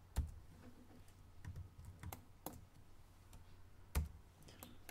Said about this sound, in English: Now we can just hold the shift key and select a bunch of brushes, and to delete them, press backspace.